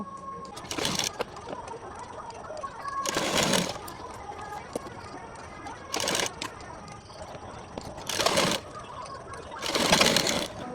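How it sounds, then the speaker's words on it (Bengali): Sewing machine stitching the armhole of a designer jacket runs in five close, fairly loud bursts of a second or less, separated by quieter pauses with faint background sounds. "এই আরমোলের আরমোলটা আমি পুরোটাই সেলাই করে নেব"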